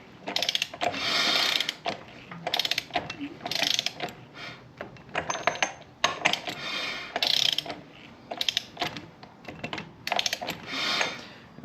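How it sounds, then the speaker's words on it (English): A socket ratchet tightens a bolt during clutch work on a Harley Davidson Dyna motorcycle, giving repeated bursts of rapid clicking close up, with short pauses between strokes. "Tighten up this bolt. Socket back."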